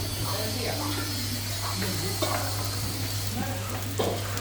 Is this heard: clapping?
no